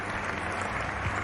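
A short burst of canned applause plays during a flight simulator stream, a dense, even wash of clapping lasting just over a second.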